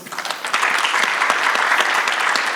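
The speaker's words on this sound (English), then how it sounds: "Could we please give him a round of applause?" A conference room audience gives a round of applause for a panelist at a carbon market dialogue, a dense, even clatter of many hands clapping at moderate loudness with no talk over it.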